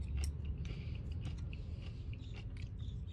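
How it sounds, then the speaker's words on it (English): Kimchi topped with sesame seeds being chewed off titanium chopsticks: soft, close, wet crunching bites repeating steadily with no talk. "let's try this kimchi"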